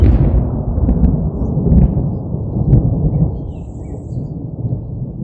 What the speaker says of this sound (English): So the thunder is still around and it's starting to rain now again